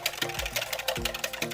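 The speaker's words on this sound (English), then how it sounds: "So now I'm just gonna whisk it together." A whisk beats salad dressing with Dijon mustard in a bowl, making a quick steady run of close, rhythmic clicking strokes with no voices.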